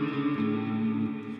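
Sustained electric guitar notes run through an ambient reverb with pre-delay, blending into a dense, shimmering wash that swells and lingers without pause.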